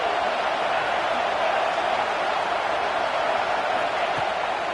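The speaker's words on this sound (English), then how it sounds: "Listen to this crowd just shaking the girders of this place" Dense, steady roar of a large stadium crowd at a college football game, All Gas versus USC, loud and continuous like a sustained wash of cheering noise with no clear breaks.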